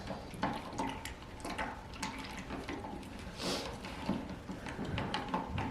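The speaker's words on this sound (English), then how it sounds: "we're gonna mix until it's all combined with our water gelatin mixture" Water and gelatin mixture being stirred for a birdseed feeder, a continuous close wet swishing and sloshing with small splashy accents, no talking.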